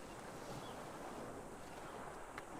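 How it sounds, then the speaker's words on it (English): Ocean surf makes a continuous, loud broadband roar mixed with gusty wind buffeting the microphone, steady from start to end with no talking. "I hear the ocean sound."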